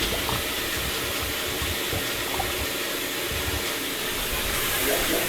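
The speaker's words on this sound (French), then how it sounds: "je vais faire couler l'eau dans la baignoire" Water running from a tap into a bathtub, a loud continuous rushing hiss with a low rumble from the water heater beneath, steady and close with no pauses.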